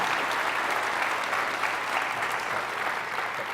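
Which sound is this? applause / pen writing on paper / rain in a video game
applause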